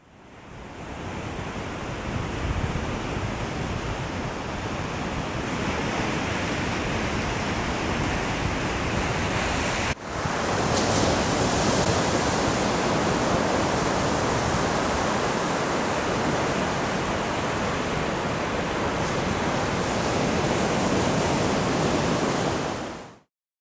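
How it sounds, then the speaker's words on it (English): Continuous broadband surf of ocean waves washing onto a beach in Oman, a steady loud wash with no talking and a brief break near the middle. "I'm going to stop the narration for a second and let you just listen to the"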